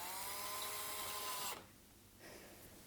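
A cordless power drill set to low torque whirs steadily while driving a Phillips countersunk screw, a loud close whine that cuts off abruptly partway through and leaves quiet room tone.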